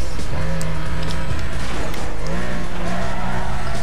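In the Need for Speed Most Wanted racing game, a car brakes and skids continuously, a loud steady tire squeal and engine roar over a dense noisy wash that lasts throughout.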